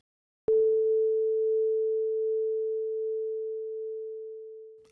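A pure single-note tone with no overtones, like a synthesizer, starts abruptly after a short click, then holds steady and alone, fading slightly toward the end.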